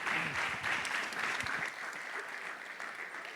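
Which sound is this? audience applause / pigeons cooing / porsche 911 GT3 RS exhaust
audience applause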